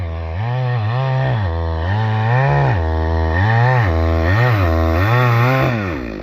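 A chainsaw runs close by in a forest, repeatedly revving up and dropping back to idle in a steady rhythm, loud throughout with no talk over it.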